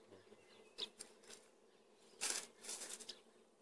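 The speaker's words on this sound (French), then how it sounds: "il y a un paquet d'abeilles" Faint, intermittent buzzing of honeybees passing close by in short bursts during a hive transfer of a swarm, with quiet gaps between.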